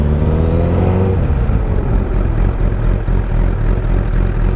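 A motorcycle engine drones loud and close as the rider brakes with the front brake, the pitch dropping early on before settling into a rough, steady rumble.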